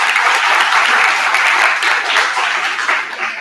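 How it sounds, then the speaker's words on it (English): A short burst of audience applause at a talk welcoming the writer Adam Thirlwell, dense and close, holding steady and then easing slightly toward the end. "give another very big round of welcome and applause for Adam Thirlwell"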